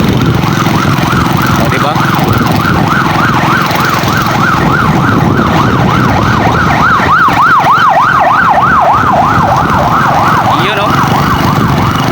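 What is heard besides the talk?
ambulance siren passing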